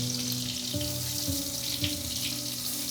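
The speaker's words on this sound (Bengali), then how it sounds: "নুন হলুদ আর ভিনিগার মাখানো যে গলদা চিংড়িটা আছে সেটা আমরা এর মধ্যে একটু ভেজে নেব" Giant river prawns marinated in salt, turmeric and vinegar fry in a pan, giving a steady, close sizzling hiss that runs without a break, with faint tonal music underneath.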